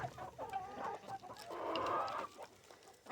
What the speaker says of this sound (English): Releasing the chickens.